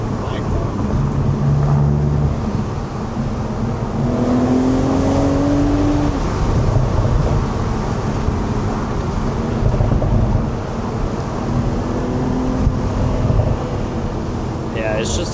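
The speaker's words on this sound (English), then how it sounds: "those pops and crackles really get old fast" BMW exhaust popping and crackling while the car is driven, sharp irregular bursts over a loud steady engine and road roar heard from inside the cabin, with occasional voices.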